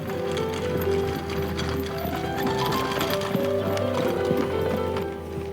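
Friesian horses trotting at a driving proficiency trial, hooves clip-clopping in a steady even rhythm over continuous loud background noise and a low hum, with no talk.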